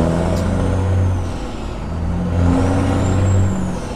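A Peterbilt 379 truck with a CAT engine and 7-inch straight pipe rumbles loudly up close as it comes to a stop, deep engine drone rising and falling with a faint hiss of air.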